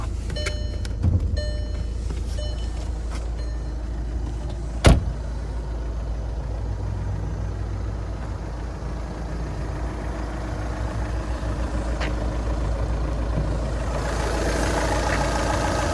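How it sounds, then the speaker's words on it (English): A 2014 Volkswagen Jetta Sportwagen TDI's 2-liter 4-cylinder turbo diesel idles with a steady low rumble, heard close under an open hood, with a couple of brief clicks and knocks early on. "there's that 2-liter 4-cylinder turbo diesel"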